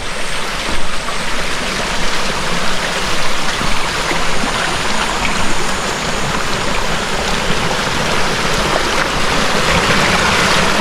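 A clear stream flowing past a remote mountain village in Tenjolaya, Bogor, giving a loud, constant gurgling rush of water close by that continues without a break.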